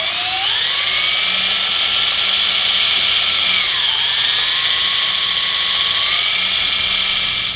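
A power drill bores through a motorcycle drive screw, a loud, continuous high whine that dips in pitch under load and recovers, running steadily throughout.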